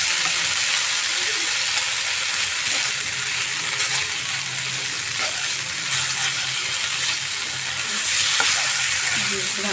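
Poppy seed paste with cashews, salt and sugar is sautéed in a pan with its water. A loud, continuous sizzle runs throughout as the mixture is stirred, with no talking.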